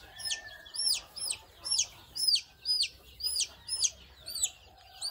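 Jungle fowl chicks about 45 days old call in a pen after vaccination, a steady series of high, repeated peeping clucks roughly twice a second, fairly close and alone without talk.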